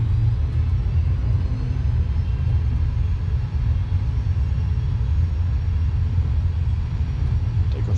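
Airliner engines spooling up to takeoff thrust, a loud, steady, deep roar and rumble heard close from the cockpit, no voices over it.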